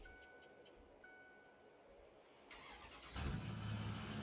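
A car engine starts in a winter forestry farming video game, a faint ticking idle followed by a sudden louder crank and a low engine rumble near the end, no talk.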